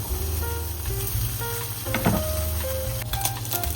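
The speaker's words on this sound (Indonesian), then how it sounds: "Lalu aku goreng biasa." A piece of fried chicken being refried in hot oil in a home kitchen: a steady close sizzle and crackle, with a brief stir or clatter near the middle.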